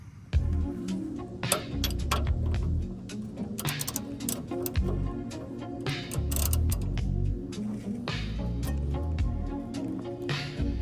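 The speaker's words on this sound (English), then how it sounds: "just need to come down here, get that bolt out" A ratchet wrench works a bolt loose on a Dodge truck, giving rapid, close, rhythmic clicking in bursts that start and stop with each stroke, with no one speaking.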